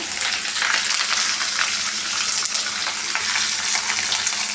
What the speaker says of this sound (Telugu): ఈ ఆయిల్ కొంచెం డీప్ ఫ్రై ఇలా వేయించుకోవాలి